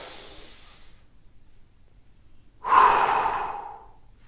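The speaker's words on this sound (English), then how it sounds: "I need you to take a really big, deep breath in." A single deep breath drawn in through the mouth, a close, breathy hiss that swells and then fades over about a second and a half, preceded by a softer exhale and silence.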